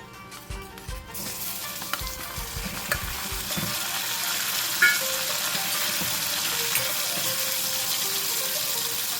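Prawns hitting a hot pan for a Thai green curry set off a loud, steady sizzle that swells and holds. Early on there are a few stirring clatters and a brief run of tap water, and no one speaks.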